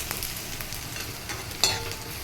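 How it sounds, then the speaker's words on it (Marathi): Onions frying in a pan for a patvadi rassa gravy, sautéed until reddish: a steady, soft sizzle with light scraping of a spoon and one brief clink partway through. No one speaks. "हा पण चांगला लाल होईपर्यंत परतायचा आहे आता कांद्याचा रंग बदलत आलाय"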